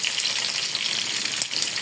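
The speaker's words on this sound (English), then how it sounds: "concentrate on frying this very meat, because I wouldn't want the oil to get into my eyes" Meat frying in hot oil for a pepper stew, a loud, steady, crackling sizzle with tiny pops throughout and no voices.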